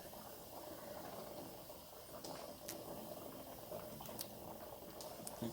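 Water in a canning pot boils steadily over a low fire, giving a continuous bubbling hiss with faint scattered pops that stays even and moderately quiet throughout.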